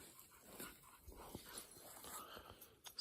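Dogs whimpering and yipping outdoors in a wooded area after chasing a squirrel, short whines scattered across a few seconds, moderately faint at a middle distance.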